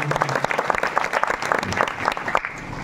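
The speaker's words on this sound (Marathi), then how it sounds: "आमच्या सर्व कलाकारांसाठी, आमच्या वैभवदादासाठी सुंदर एकदा टाळी वाजवा." An audience at a kirtan claps together in a brief, dense burst of applause that stays loud throughout the short span.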